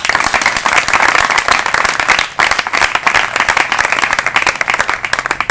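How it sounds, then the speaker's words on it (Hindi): Loud, close applause from a crowd at a government school in Biraud honouring a top-ranked student, with many hands clapping fast and continuously and one brief dip midway. "जोरदार ताली।"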